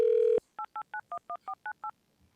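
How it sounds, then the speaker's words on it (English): Telephone keypad tones dialing into a meeting line: one longer tone followed by eight short, evenly spaced dual-tone beeps, clear and close, with no talk. "we're going to dial in Commissioner Townsend real quick before you start your section here"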